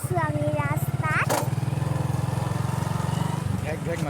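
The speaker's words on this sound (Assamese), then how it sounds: "ঘেক ঘেক মাতিছেচোন বাইকখনে" Motorcycle engine running steadily on a road ride, a low continuous throbbing hum close to the microphone, with a voice and other speech over it.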